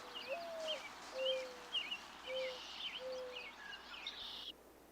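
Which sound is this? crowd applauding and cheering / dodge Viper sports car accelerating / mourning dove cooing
mourning dove cooing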